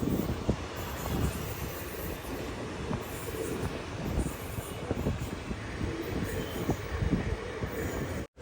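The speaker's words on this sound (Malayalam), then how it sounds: "പാലക്കാട് ജംഗ്ഷൻ സ്റ്റേഷനിലേക്ക് ഇതാ ട്രെയിൻ എത്തിയിരിക്കുകയാണ്" Aboard the Chemmozhi Express in a second-sitting coach as it arrives at Palakkad Junction, a continuous loud rumble of wheels on rails runs with rhythmic clacks and occasional squeals, close and uninterrupted until an abrupt stop.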